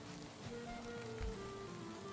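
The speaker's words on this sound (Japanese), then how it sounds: "今雨降ってるけどさこの雨降ってる状態だとここの火が消えちゃってさ" In Valheim, rain falls as a soft, steady patter under faint tonal game sounds, with a few louder thumps here and there.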